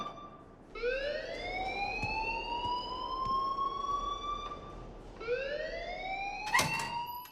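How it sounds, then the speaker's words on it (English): Alarm ringing in the Life Is Strange video game: a rising, wailing electronic siren tone that sweeps upward twice, fairly faint and steady, with a sharp click near the end. "please turn off that alarm since that's your job"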